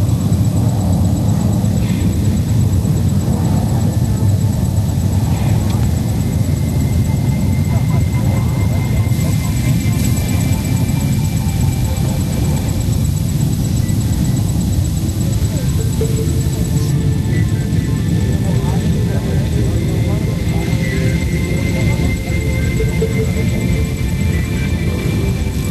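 AN-32 transport aircraft propeller engines during a para drop, a loud, continuous droning roar that fills the scene steadily, with someone narrating over it.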